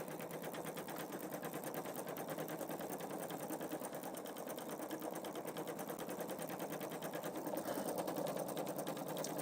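A Pfaff Creative Vision embroidery machine stitches steadily and continuously, a fast even rattle of the needle at close range with no pauses and no voices.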